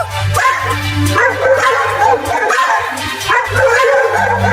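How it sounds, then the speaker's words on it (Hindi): Cartoon dogs bark and yip in a scuffle, repeated bursts of yapping close by over a steady low hum, with no clear talk over them. "वो देखो, वो कुत्ता फिर से आ रहा है, और देखो वो एक और कुत्ता को भी लेकर आ रहा है।"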